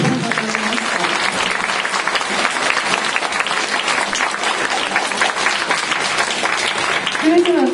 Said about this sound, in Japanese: もう一度皆さん拍手を。